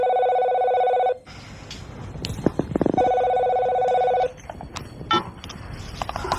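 A telephone bell rings loud and close in two long electronic bursts with a pause between them. Some shuffling and faint voices fall in the gap and trail after the second ring.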